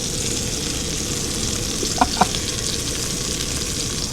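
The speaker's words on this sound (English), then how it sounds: "this chicken is sizzling, and we about to flip it" Steady crackling sizzle of chicken frying in a pan, continuous and fairly loud, with two brief sharper clicks partway through.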